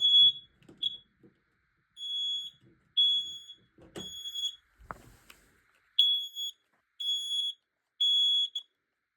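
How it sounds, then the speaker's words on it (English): A smoke alarm sounds during a system test, emitting a series of loud high-pitched electronic beeps in short bursts, with some handling clatter between them in a quiet room. "when I put it back, it just sounds the alarm"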